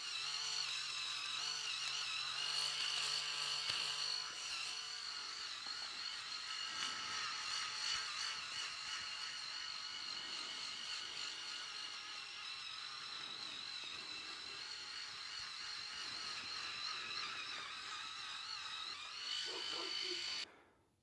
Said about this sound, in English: So I usually just shave my head every other day or every couple of days.